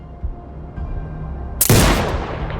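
Sniper rifle shot in Sniper Ghost Warrior Contracts 2, a single sharp, loud crack about two-thirds through, ringing out into a decaying rumble after a quiet, tense ambient hum.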